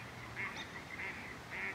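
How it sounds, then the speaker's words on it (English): Ducks quack somewhere in a backyard, three short, fairly faint calls spaced about half a second apart over a hazy outdoor background. "I think there's some ducks making a racket"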